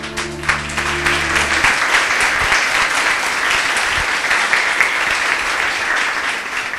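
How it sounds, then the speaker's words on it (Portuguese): A church congregation bursts into applause at the close of a pastor's prayer, a steady, dense wash of clapping that rises after a fading sustained note at the start. "Palmas para o Senhor."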